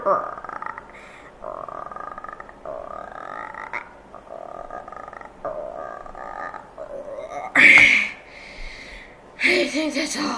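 A person imitates a frog with repeated low, throaty croaks in a steady rhythm, close and fairly loud, followed by a couple of sharper, breathy bursts near the end, performed at a school talent show.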